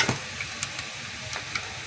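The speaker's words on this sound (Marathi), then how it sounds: "यात आपण टाकू थोडं जिरं" Cumin seeds sizzling in about two spoonfuls of hot oil in a pan while cooking chicken masala, a faint steady crackle with a few sharp pops, no voices.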